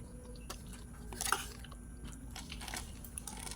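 Crispy fried pork and eggplant being bitten and chewed close up, with several sharp crunches, one louder snap near the middle, and soft wet chewing between them, heard quietly with no speech.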